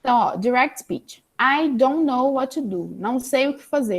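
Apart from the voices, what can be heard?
No distinct noise like a dog, phone or traffic.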